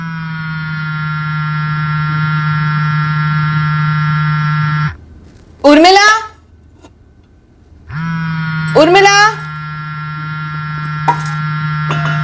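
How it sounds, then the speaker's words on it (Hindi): A loud, steady electronic ringtone buzzes in two long stretches, with a voice calling out twice during the gap between them. "तेरा फोन बज रहा है।"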